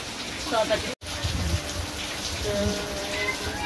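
Rain falls steadily as a broad, continuous patter throughout, with a brief dropout near the start and faint voices and background sounds mixed in.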